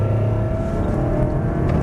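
Race car engine accelerating on a track during an overtake, a loud continuous motor drone with steady harmonics and a slight rising pitch through a gear change, close and alone with no talk.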